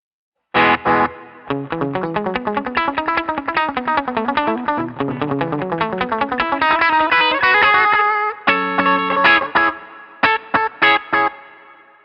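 Electric guitar played through a Boss DM-2 analog delay pedal set to full intensity, fast distorted picked runs climbing and falling, then chopped chord stabs, loud and up close with no voices.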